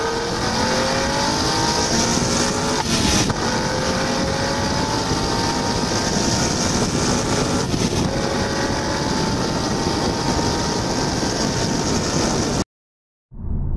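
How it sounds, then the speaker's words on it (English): Induction roar of a standard 2009 Renault Clio 200 with a naturally aspirated engine, captured from inside the airbox: a loud, continuous intake growl rising through the revs with brief breaks at gear changes, then a sudden cut. "Can't beat a bit of pure, normally aspirated induction noise."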